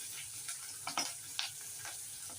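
Onion, curry leaves, cut garlic and green chili fry in oil for chivda, giving a low, steady sizzle with a few short crackles and stirring taps.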